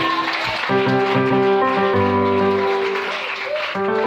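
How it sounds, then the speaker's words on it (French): A church congregation applauds to acclaim the Lord, steady clapping that fills the room over sustained music tones throughout. "Est-ce qu'on peut acclamer le Seigneur?"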